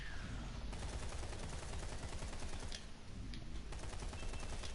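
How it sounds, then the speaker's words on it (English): Rapid blind-fire gunshots in the shooter Lawbreakers, a steady stream of clicky, crackling shots running throughout at moderate-to-low level with no voice over it. "Using blind fire, okay."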